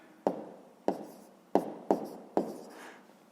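Handwritten numbers on paper: five sharp, separate pen or chalk strokes in an uneven rhythm, each a quick tap fading fast, close and quiet with no talk.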